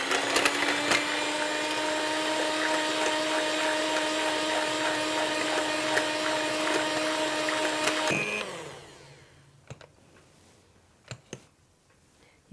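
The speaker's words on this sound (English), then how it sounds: "So we beat this until it thickens." An electric mixer whirs loudly and steadily while beating a gelatin and icing sugar marshmallow mixture, then winds down and stops, followed by a few light knocks and taps.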